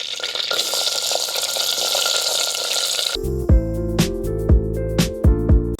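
Finely chopped small onions hit oil in a clay pot over a wood fire, sizzling with a steady broadband hiss for about three seconds, then clinking, ringing metallic taps of utensils against the pot.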